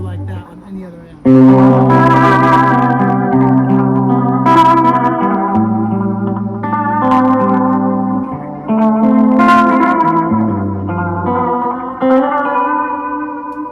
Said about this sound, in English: You ain't ever gonna hear no reverb like that on any other amp.